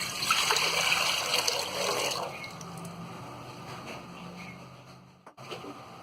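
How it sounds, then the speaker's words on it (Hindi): Water poured from a glass into a cooking pot on a gas stove for rice: a steady, splashing stream that softens partway through, then a brief sharp knock near the end. "एक गंज लेंगे और गैस चालू करेंगे और इसमें हम 5 गिलास पानी डाल देंगे"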